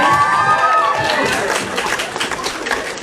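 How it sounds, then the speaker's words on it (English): Comic-Con crowd applauding at a fan convention, a dense, loud wash of clapping and cheering that holds steady for a few seconds, with a voice heard briefly at the start. "Any applause, guys?"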